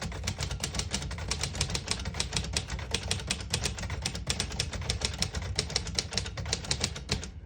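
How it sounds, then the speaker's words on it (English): Rapid, steady keystrokes clatter on a 1956 Royal Quiet De Luxe portable typewriter, close and continuous with an even rhythm, and no voices. "This is one of the best typewriters I've typed on in a long time"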